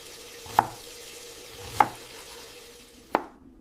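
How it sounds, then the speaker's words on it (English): An onion is chopped with a knife in a kitchen: three slow, sharp chops spaced about a second apart, each a crisp close thud over faint background hum, with no talk. "I am chopping an onion."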